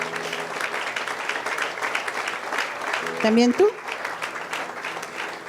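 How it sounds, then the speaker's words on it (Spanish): A church congregation claps together in steady applause, the clapping mixed with a voice speaking and briefly rising in pitch near the end. "Fuerte el aplauso al Señor."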